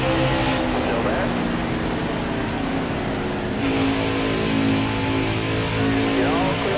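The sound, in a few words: race car engine revving in a racing video game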